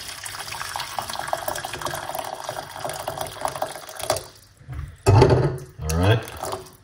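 Hot water is poured into a medium-size pot for parsley tea with lemon, a running liquid stream that ends, followed by a few louder splashes and clunks of handling.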